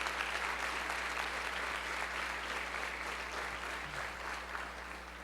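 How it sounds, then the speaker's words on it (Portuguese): Steady, sustained applause from a large church congregation, dense and continuous for several seconds without pause. "Eu falei assim, aplauda o Senhor, aplauda bem forte."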